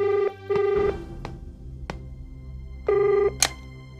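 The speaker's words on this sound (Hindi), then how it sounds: "आपका फोन।" Telephone ringing in a quiet room, a close electronic ring in two short bursts near the start and a third later, separated by pauses with faint clicks and handling sounds.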